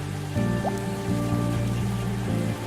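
Light drizzle in a video game, a steady soft patter of rain with a low droning background tone and a brief rising chime partway through, no voices.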